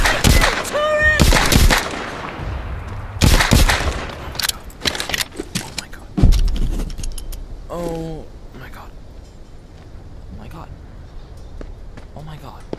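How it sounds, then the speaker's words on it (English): Turret gunfire in The Walking Dead: Saints and Sinners, several sharp, loud shots and bursts at irregular intervals, close by, with someone talking between them. "Turret!"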